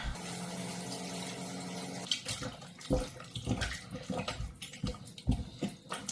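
Water runs steadily from a tap, splashing and gurgling close by, with small bumps and knocks mixed in.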